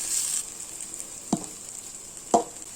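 Sautéed mango and rice sizzle gently in a pan, with a constant soft frying hiss and two brief scraping stirs.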